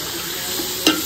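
Potatoes and peas frying in a pan give a dense, steady close sizzle, broken near the end by a single clink of a stirring spoon.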